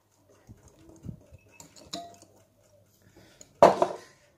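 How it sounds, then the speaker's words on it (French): A spoon stirs yogurt cake batter for an apple-pineapple cake in a bowl, giving soft scrapes and scattered clinks against the bowl, with a louder clatter near the end. "Bon, on remue."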